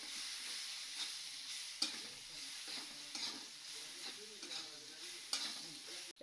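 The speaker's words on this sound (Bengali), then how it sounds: "এগুলো একটু নেড়ে চেড়ে একটু ভাজা ভাজা করে নিব।" A masala of cumin powder and Kashmiri chili powder is stir-fried in a pan. Soft sizzling runs beneath repeated scraping stirs of a spatula, quiet and close with no talk.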